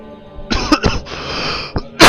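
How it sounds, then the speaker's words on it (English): Video game character coughing: several sharp coughs in quick succession, close by, with a final louder harsh burst at the end, from The Legend of Zelda: The Wind Waker. "Coughing way too much."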